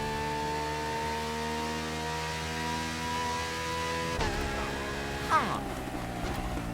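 Modified exhaust on a car engine in the racing game Motorfest, a steady droning hum with harmonic tones that shifts and revs up briefly toward the end, heard continuously without speech.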